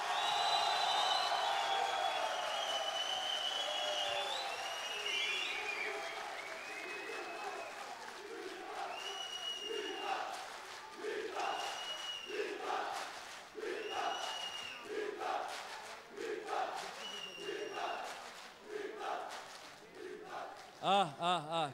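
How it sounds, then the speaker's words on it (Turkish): A studio audience at a Popstar singing competition final claps and cheers loudly for a contestant, then breaks into rhythmic, repeated group chanting that rises and falls in regular bursts. "Miktat'ın taraftarları bir alkışlasınlar bakalım."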